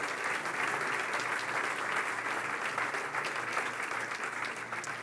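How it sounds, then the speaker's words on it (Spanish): A church congregation applauding, steady dense clapping held at an even level from start to finish, filling the space with no voices on top. "Dale un aplauso al Señor"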